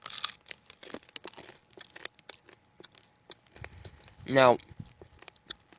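Crunchy granola bars are eaten outdoors in the cold, producing close, crisp crunching and crinkling wrapper sounds in scattered bursts, followed by someone speaking briefly.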